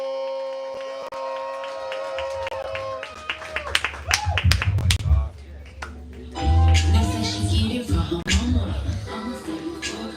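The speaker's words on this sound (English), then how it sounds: "Then we clapping, we building energy, we making all the noise" Audience at a live poetry event clapping and cheering in two loud bursts of applause, with a voice speaking over a quieter stretch before and between them.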